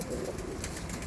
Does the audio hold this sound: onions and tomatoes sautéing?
no